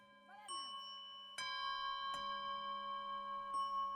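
Bells ring out in a few separate struck tones, each leaving a long sustained ringing hum that layers over a faint background, with a quiet voice briefly at the start.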